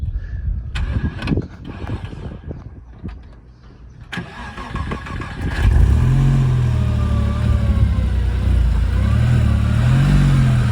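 A Porsche 996 engine starts up and runs, then settles into a loud, steady running note with rising revs, close by and alone.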